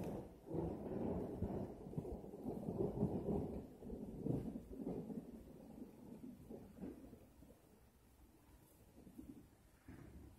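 Thunder during a thunderstorm rolls in low, deep rumbles that swell and fade over several seconds, distant and unbroken, settling into a quieter tail.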